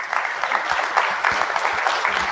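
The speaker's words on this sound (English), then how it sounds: "A round of an applause for the panelists" Conference attendees applaud the panelists of a co-operative movement stakeholders' meeting, steady, moderately loud clapping from a roomful of people that continues throughout.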